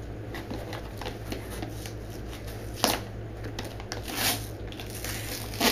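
A trusty knife slices open a heavily taped cardboard package: close, dry crinkling and scraping rasps with a few sharper tears, steady and unhurried against a low background hum.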